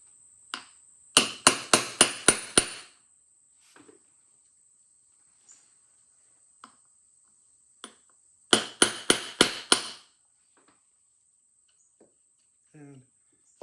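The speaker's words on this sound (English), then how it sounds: "And you've got to tap down to make sure that it has a little bit of clearance here." A long socket tapping a winding crank gear down onto a Victor M spring barrel, two quick bursts of about six sharp metallic taps each, separated by sparse faint clicks in a quiet room.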